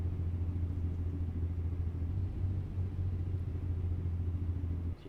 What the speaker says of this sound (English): So we can start applying the engine brake.